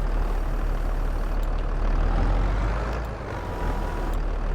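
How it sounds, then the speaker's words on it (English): A tractor engine in Farming Simulator, working at a farm while handling silage and hay bales, runs with a continuous loud low rumble that dips briefly before resuming its steady drone. "Is this tractor powerful enough?"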